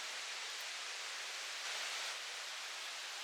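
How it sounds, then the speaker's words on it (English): A river flows steadily outdoors among greenery and trees, heard as a soft, even, continuous rush with no voices. "You hear the river?"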